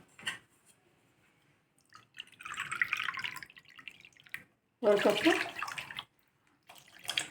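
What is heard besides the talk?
pouring water into a pan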